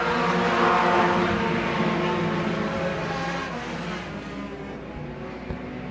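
A field of 4- and 6-cylinder race cars roars around a track at the Woodtic/Dan Salay Memorial, a dense, steady engine drone that stays loud and fades slightly as the pack moves away.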